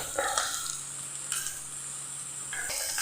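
Grated carrot frying in ghee with steady sizzling and occasional stirring scrapes, close and continuous for the whole stretch.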